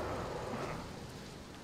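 Steady rain pours from a rain cloud in the LEGO Movie video game, a dense even hiss that holds throughout and fades slightly toward the end.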